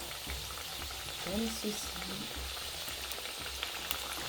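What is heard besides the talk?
pastels frying in oil in a small sauté pan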